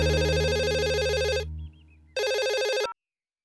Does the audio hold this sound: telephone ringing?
yes